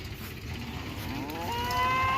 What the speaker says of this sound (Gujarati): અમારી ભેંસો ભાઈ ભરારે છે ખાવા માટે